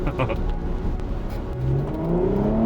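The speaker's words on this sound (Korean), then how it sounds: "지금 저 풀악셀 밟았거든요" A Porsche Cayenne Coupe SUV accelerates at full throttle on a soaked wet track, its engine note climbing steadily through a gear, with a brief voice over the engine early on.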